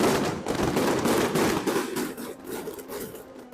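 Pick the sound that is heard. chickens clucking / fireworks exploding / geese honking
fireworks exploding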